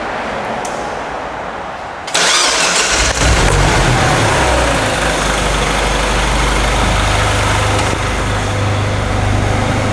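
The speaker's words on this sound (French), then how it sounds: "on va faire un petit démarrage que vous entendiez le moteur rugir" A Peugeot 207 RC car engine cranks and catches, then roars up into a loud, sustained rev before holding at a steady, throaty run.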